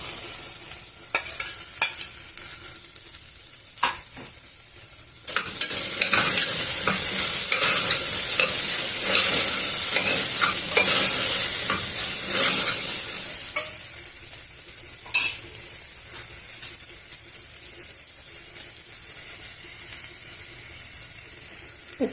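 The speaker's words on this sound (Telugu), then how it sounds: "ఇప్పుడు ఉల్లిగడ్డలను కూడా వేసేద్దాము" Onions frying and being stirred in a pan, a close sizzle with scraping stirs that swells into a loud, bright hiss midway before settling back to a quieter crackle, with no talk.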